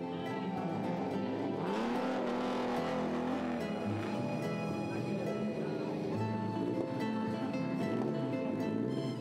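Classic cars departing the Mille Miglia start in turn, oldest first, with engines running and revving near and far in a continuous mechanical roar, while a voice talks over it.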